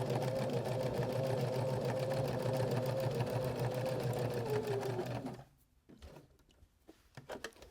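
A sewing machine stitches an upcycled shirt in a long, steady mechanical whir, then stops, followed by quiet handling clicks and fabric shifting.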